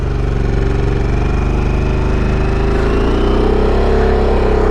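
A 2023 Harley-Davidson Sportster S motorcycle rumbles loud and close as it rides out onto the road, its deep throbbing engine climbing steadily in pitch under acceleration, with no voices.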